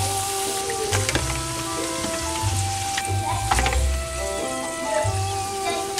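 Potatoes fry in hot oil in a pan for a Southern cooking meal, giving a continuous close sizzle and crackle with scattered pops and occasional stirring clatter.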